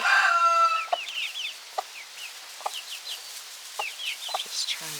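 Backyard chickens with a couple of roosters among them, with a crowing call at the start followed by scattered short clucks and murmurs from the flock, fairly close and otherwise quiet.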